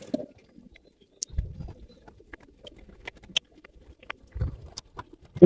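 Soft, low cooing of Giribaz high-flyer pigeons at a pigeon farm comes in short bursts amid quiet rustling and faint clicks, with brief gaps of near silence.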